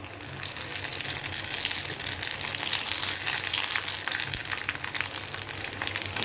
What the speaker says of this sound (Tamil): இப்போ நான் வந்து 2 போட்டு பொரித்து எடுத்துக்கிறேன்